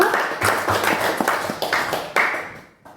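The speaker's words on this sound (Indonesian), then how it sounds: "tepuk tangan buat kelompok 1" A classroom group claps for the first team after its score is read, a brief burst of dense, close hand applause that fades away within a few seconds.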